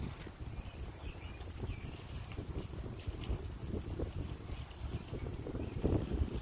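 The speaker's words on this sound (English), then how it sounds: "The sound of the wind is not encouraging." Wind blowing outdoors near a lake at dawn on a canoe trip, a steady low rush and buffeting gusts heard from a hammock, continuous and moderately faint with no talking.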